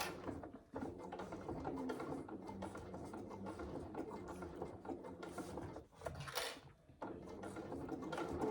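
A domestic sewing machine stitching fabric for a saddle bag, a steady mechanical whir with a fast needle rhythm that holds for several seconds, pauses briefly twice, then starts up again.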